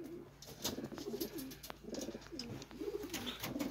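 Several pigeons, among them male Californian birds kept on a farm, coo in repeated low throbbing phrases at close range over a steady background hum, with faint chirps mixed in.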